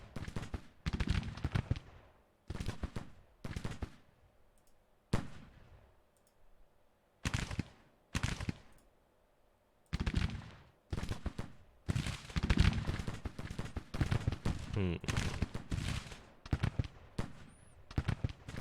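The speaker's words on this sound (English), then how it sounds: "Should start to see that cannon engagement." Cannon and musket fire from a Civil War battle in the strategy game Grand Tactician: The Civil War, set in 1862, comes as loud, sharp, irregular bursts and volleys that cluster and overlap across the whole stretch, with no talking.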